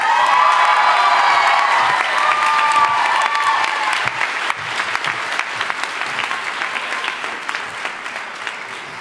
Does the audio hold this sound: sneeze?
no